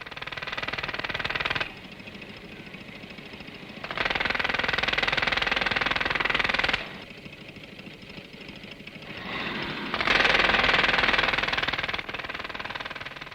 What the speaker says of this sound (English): A larger version, producing 100 cubic feet of air, is sufficient to power 2 medium-duty drills and is used for major road work.